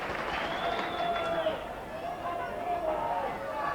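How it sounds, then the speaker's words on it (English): A rugby league crowd at a Sheffield Eagles versus Leeds match in 1992, a broad roar of cheering and hubbub that swells and holds throughout, with a commentator's voice over it. "And the crowd really behind him."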